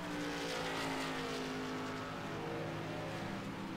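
Race trucks circling a track late in a long race, a layered engine drone with sustained tonal whines sliding slightly in pitch as vehicles pass, heard from a distance and fairly faint, with no talk.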